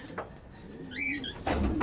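Racing pigeons at a loft coo softly, a low throaty call rising and falling once amid faint outdoor ambience, with a few brief bird chirps and rustles nearby.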